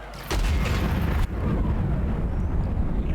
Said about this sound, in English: Double shell away.